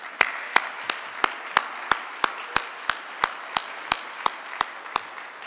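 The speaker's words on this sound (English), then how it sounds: "would everybody join me in giving him a big round of applause?" A conference audience applauds, with sharp claps landing in a steady, even rhythm over a continuous bed of crowd clapping noise, fairly loud and close.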